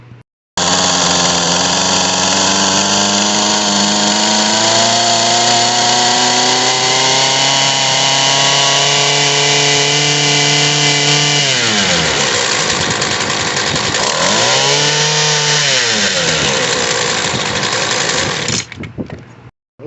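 A Poulan Pro PR25 string trimmer's small two-stroke engine screams at full throttle, loud and steady, then dips in pitch twice as the carburetor is adjusted before cutting off.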